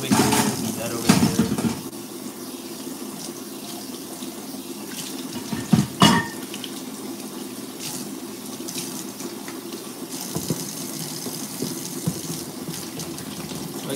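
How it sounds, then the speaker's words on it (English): Kitchen tap water running as hands and a plate are rinsed, a steady gushing stream with brief louder splashes and knocks near the start and middle, and talk faintly in the background. "Rinse off my hands really quick. Rinse off this plate."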